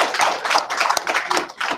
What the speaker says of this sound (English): So let's clap Dr. Carafano and let him go to bed